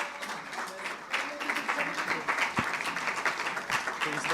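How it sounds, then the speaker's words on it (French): Clapping from a conference audience, steady and moderately loud, with voices mixed in underneath. "On peut l'applaudir."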